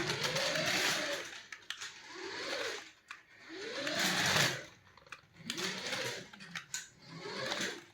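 A budget Speed Racer RC toy car drives in bursts, its small electric motor whining up and down in rising and falling surges, close and fairly loud, with brief pauses between runs.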